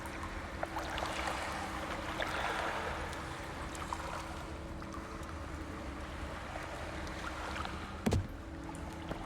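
Water in the video game Call of Cthulhu, a steady lapping, sloshing wash like waves against a boat, continuous and moderately loud, with a brief knock near the end.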